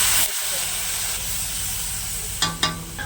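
Water is poured into a pan of frying spices, cumin, chili powder and fried chilies, for a dal puri filling. A loud, continuous steaming hiss fills the clip, with a couple of sharp utensil knocks near the end.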